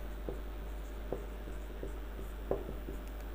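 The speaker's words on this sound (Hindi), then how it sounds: "इसका हम लिखेंगे उदाहरण" Chalk taps and scratches on a classroom board in short, separate strokes, fairly close, over a low steady hum with no talking.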